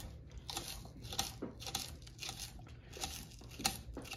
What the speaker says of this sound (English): I'm gonna cut up the spring onion.